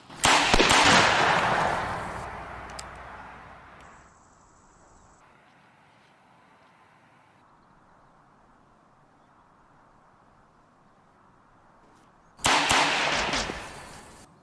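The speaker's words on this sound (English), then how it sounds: "You're out of shots, Abernathy." Revolver gunshots in a bad-guys film, loud sharp bursts of firing at the start that fade away, then near silence, then another loud burst of shots at the end.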